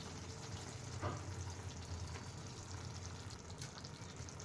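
Ingredients fry in a pan with a low, steady sizzle and crackle, quiet and close, with a faint scrape of stirring and no talking.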